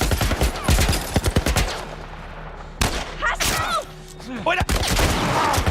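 Gunfire in the video game The Last of Us, rapid bursts of loud close shots at the start, then single heavy shots separated by pauses, with a voice exclaiming between them.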